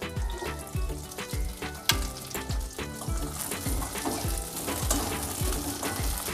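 Long-cut spring onions added to a hot frying pan, a steady sizzle broken by repeated utensil knocks and scraping, with a faint rhythmic background beneath.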